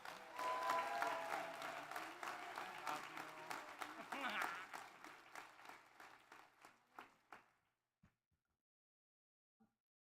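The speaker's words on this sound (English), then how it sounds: "A warm applause." Warm applause from a crowd at a county inauguration ceremony in Hawaii, sustained clapping that thins out into a few scattered claps before falling silent.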